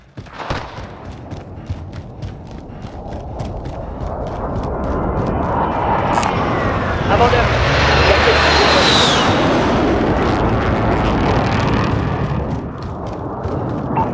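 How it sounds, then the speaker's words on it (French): An enemy drone passes overhead in Call of Duty Warzone as a loud, sustained engine-like drone swells and peaks midway, over dense game noise with scattered sharp clicks and bursts. "Drone ennemi au-dessus."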